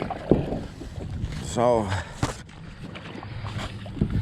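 An Ascend 10T kayak pushes off onto the water, a short burst of scraping and sloshing rising midway through, with wind rumble and a brief spoken word around it.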